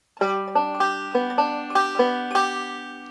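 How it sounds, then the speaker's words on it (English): A banjo plays a bright, steady rolling pattern of plucked notes, evenly spaced and ringing, one short measure played alone. "one measure of a forward roll, and it's going to sound like this"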